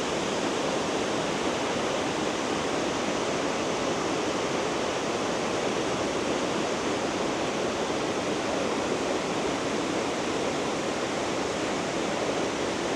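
Runoff water pouring steadily into a small pond near a volcanic lake viewpoint, a dense, even rushing wash that stays loud and unbroken throughout.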